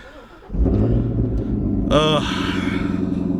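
A Chevrolet Corvette C7 ZR1 engine runs with a loud, steady low rumble that swells briefly as it revs. The car is heard close up and without talk.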